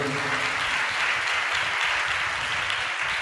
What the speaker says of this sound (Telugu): చప్పట్లు కొట్టండి గట్టిగా అందరూ